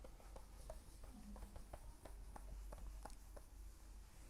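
Pen scratching steadily across paper while handwriting notes on motion, short strokes in a quick irregular rhythm, close and fairly quiet with no voice.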